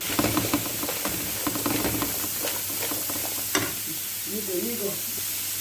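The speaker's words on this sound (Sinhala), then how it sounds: "ලුණු ටික මේ වගේ කර කර ගන්නවා." Onions fry in oil in a pan for an Arabic fish machboos, a steady sizzle with stirring scrapes and soft clatter, and a brief low murmur near the end.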